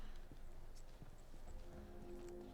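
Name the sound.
footsteps in a video game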